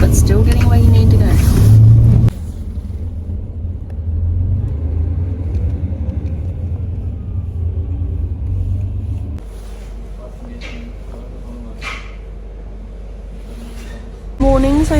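A long-distance bus from Cappadocia carries a deep, continuous engine rumble and road drone heard from inside, shifting in level as the bus moves, with a voice briefly heard at the start and end.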